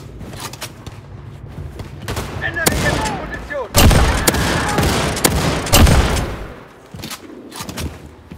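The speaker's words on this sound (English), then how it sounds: "Blazkowicz, hop on the nuclear cannon and fire it to maximum distance" A nuclear cannon fires in Wolfenstein 2: The New Colossus, producing heavy booming blasts and sharp cracks with rumbling tails, loud and close, with a brief voice among the explosions.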